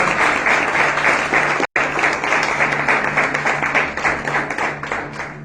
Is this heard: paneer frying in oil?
no